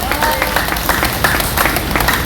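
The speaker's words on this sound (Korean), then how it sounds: "큰 박수 부탁드립니다" Crowd applause at an outdoor political rally in front of the Supreme Court, a dense continuous clapping under loud open-air noise.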